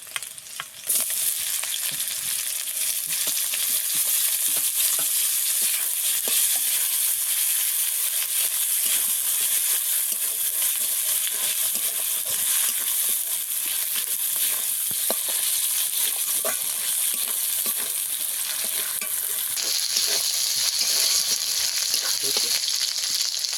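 A steady, loud sizzle of pangas fish frying in a pan fills the whole stretch, with occasional scraping and clinking of a utensil stirring.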